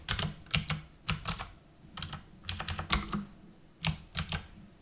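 Someone types a room name on a computer keyboard while renaming a view in Revit office-building software. Clusters of quick, close key clicks come in short bursts separated by brief pauses, with no speech.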